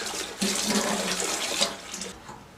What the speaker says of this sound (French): rincer avec la centrale et de l'eau à environ 40 à 50 degrés